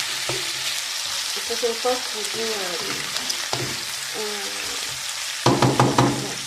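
Food cooking in a pan and being stirred, giving a loud, steady sizzle throughout, with a run of quick scraping stirs near the end; someone speaks briefly over the frying.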